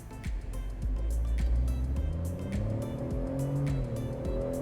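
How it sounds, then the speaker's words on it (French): A Tata Nexon petrol car in sport mode accelerates hard at full throttle, its engine note loud and steady as it climbs through the revs, with road and tyre noise underneath and no speech. "Pied au plancher, accélération."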